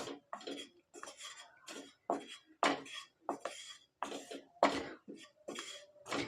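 Ingredients being stirred and roasted in a pan, with a series of separate scraping and clinking strokes of a utensil against the metal, each short and fairly close, with quiet gaps between them.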